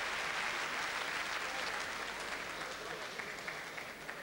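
A crowd at a boxing match applauds steadily in a dense, even wash of clapping that tapers slightly toward the end, heard from within the arena.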